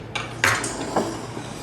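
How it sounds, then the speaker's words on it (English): Dry cornmeal mixture being stirred in a bowl, with a few clinks and scrapes of a utensil against the dish, one stronger knock partway through, close and fairly quiet. "Mix the dry ingredients."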